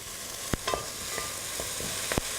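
Food being stirred in a frying pan for Spanish chicken, a quiet constant sizzle with several sharp scraping knocks of a spoon against the pan, close by.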